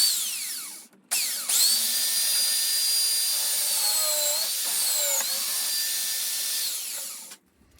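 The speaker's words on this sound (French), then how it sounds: "Et je vais percer avec un foret de 6." A drill mounted on a WABECO drill stand bores with a 6 mm bit, giving a steady high motor whine that spins up, holds for several seconds with small pitch shifts as it cuts, then winds down and stops.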